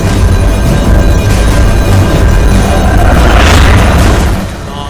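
Loud, continuous booming blasts from rockets exploding in the video game Chrysalis, the Armageddon Android, a dense rumbling barrage that holds steady and eases off slightly at the very end.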